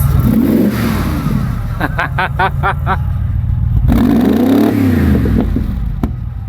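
An engine fitted with a Voltarent ECU revs up loudly and falls back twice, with a rapid stuttering burst between the revs and a sharp snap at the end.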